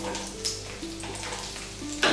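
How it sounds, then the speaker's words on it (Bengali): Dry whole red chillies, chopped ginger and garlic sizzle in hot oil for chicken malai gosht, a steady close crackle with no one talking and a brief louder flare at the end. "তেলটা একটু গরম হলে এর মধ্যে দিয়ে দেবো শুকনো লঙ্কা, গোটা শুকনো লঙ্কা, আদা কুচি,"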